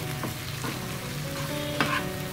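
Dried fish pieces stirred with salt and turmeric in hot oil alongside onions, a steady low sizzle with a few scraping stirs of a spoon against the pan, close and continuous with no talking.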